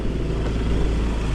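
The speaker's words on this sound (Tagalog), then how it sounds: "Magkakasalubungan doon ng tricycle." A motorized tricycle passes on a rural road, its engine a loud, steady rumble with some rattling up close, and nobody talks over it.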